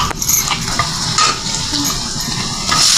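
Boiled colocasia leaf rolls dropped into a hot tempering of oil with cumin powder, chilli, asafoetida and garam masala, loud crackling sizzle with stirring scrapes and a clink of utensils against the pan.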